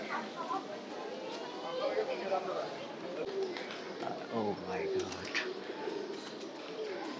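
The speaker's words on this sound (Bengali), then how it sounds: "এখানে কিন্তু শত শত কবুতর আছে" Pigeons cooing at the pigeon house of the Hazrat Shah Jalal shrine, many soft overlapping coos and flutters close by, heard under excited talk from people nearby.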